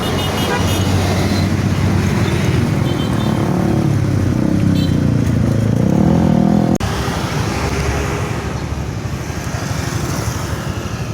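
Tour buses passing on Soekarno Hatta road in Palembang, a loud continuous engine roar and traffic rumble with a horn toot, the sound swelling as a bus passes and then shifting as the next one follows.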